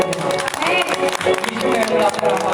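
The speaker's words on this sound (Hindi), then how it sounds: "ताली बजा दो" A congregation at a Sunday church service claps together in a loud, continuous burst of applause, with voices speaking over it.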